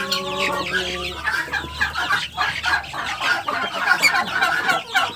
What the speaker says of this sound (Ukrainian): Дивіться на них. Ось такі курчатка.